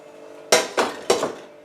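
A scrubbing pad works at a burnt pan, giving three sharp metallic clanks about a quarter-second apart, each ringing briefly before fading, close and fairly loud against a quiet background.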